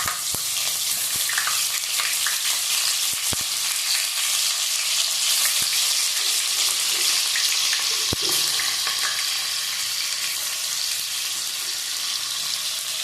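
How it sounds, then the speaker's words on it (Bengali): Boiled young jackfruit pieces fry in hot oil in a wok, giving a steady, close crackling sizzle that runs unbroken, with a few sharp utensil taps scattered through it. "এবার আমি ইঁচড়গুলো একটু ভেজে নেব।"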